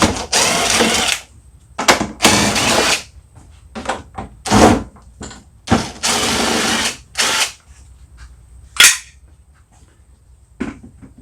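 A power tool backs out 5/16 bolts from a panel on a Toro CCR 1000 snowblower, whirring in short, sharp bursts separated by pauses, loud and close.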